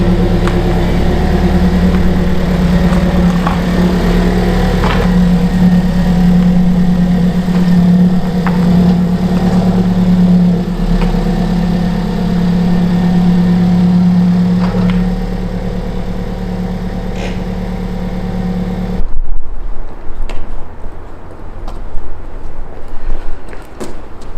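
An Alfa Romeo 4C Spider sits with its engine idling, a loud, steady mid-pitched drone with small fluctuations, which then drops away abruptly near the end, leaving quieter clicks and handling noises.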